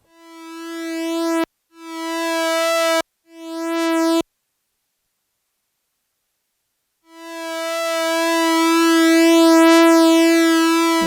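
Synthesizer strings patch with slow attack and long sustain, three swelling held notes that cut off abruptly, a pause of silence, then a longer note slowly rising and sustaining, bright, buzzy and solo.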